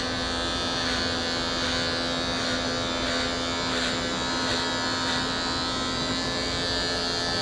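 Adjustable-blade hair clippers cutting a mid-ball fade (military skin fade) hum steadily and close up, with a constant buzz that runs the whole time and no talk over it.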